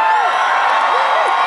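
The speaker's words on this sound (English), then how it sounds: "But you really don't need to cheer for Texas that much" Concert crowd at a live show at the Greek Theatre in Los Angeles, cheering and whooping loudly for Texas, a dense continuous roar with scattered high shouts rising above it.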